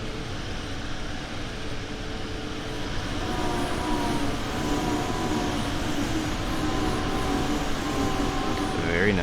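An ICE high-speed train passes in the simulator game Train Sim World 2 on the Cologne–Aachen high-speed line, a steady broadband rumble with tonal whine that swells gradually over several seconds, loud and sustained.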